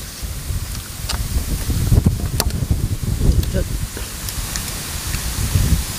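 Wind blowing outdoors, a soft, steady rushing with rustling leaves, heard under someone talking nearby.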